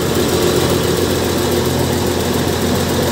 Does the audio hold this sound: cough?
no